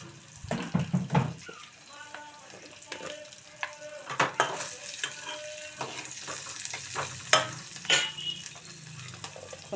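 Chopped onions frying with salt in a pan for a cucumber and tomato curry, a soft sizzle under repeated scraping stirs and clinks, with running tap water in the background.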